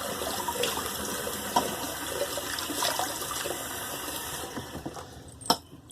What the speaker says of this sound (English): I'm going to re-wet my face.